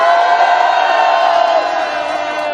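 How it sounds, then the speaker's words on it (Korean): An audience erupts in loud, close cheering, with a mass of raised voices whooping and shouting in a sustained roar lasting a couple of seconds. "다시 한번 뜨거운 박수 부탁드립니다"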